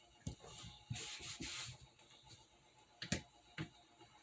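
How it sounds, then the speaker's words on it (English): A sharpening stone being scrubbed clean under heavy pressure while sharpening an Uncle Henry knife, faint gritty rubbing strokes and scrapes in short irregular bursts, quiet and close. "We're going to clean the stone. Lots of pressure."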